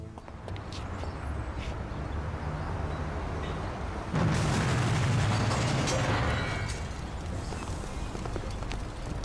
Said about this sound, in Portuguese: My ears are ringing from that blast.